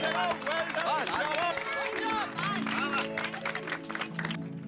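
A crowd applauds and claps for the Tapu Sena, with scattered hand claps and cheering under loud speech and chatter for several seconds.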